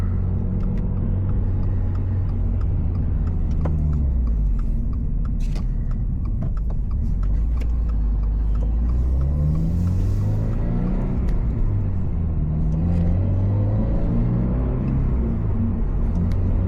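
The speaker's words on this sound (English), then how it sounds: "The car sounds pretty good for what it is." Engine hum from a 2023 Toyota GR86 on the move, steady and loud from inside the cabin, with revs rising and falling through gear changes over constant road rumble.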